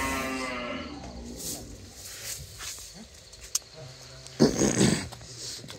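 Cattle on a farm low in a deep moo near the end, with quieter animal grunts, rustling and a dog-like sound earlier.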